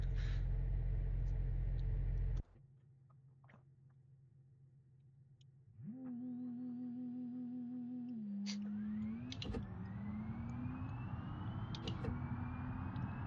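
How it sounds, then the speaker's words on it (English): A Porsche 911 in the BeamNG driving game revs and pulls away from a standstill, its engine note climbing steadily through the gears with a brief dip at a shift, loud and close after a quiet idle. "This will be the official 0 to 60 and then brake test on the Porsche 911."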